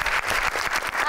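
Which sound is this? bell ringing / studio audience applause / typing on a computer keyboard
studio audience applause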